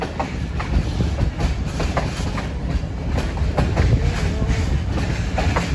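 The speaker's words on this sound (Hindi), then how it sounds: "मिट्टी उड़ाता हुआ ZCU30 और पूरी रेलगाड़ी" The Ghouri Express, hauled by a ZCU30 locomotive, rolls past at Chak Jhumra station in Pakistan, kicking up dust. Its wheels beat a steady, close clickety-clack rhythm over the rails, with no talk over it.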